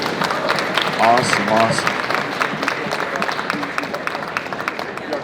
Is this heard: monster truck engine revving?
no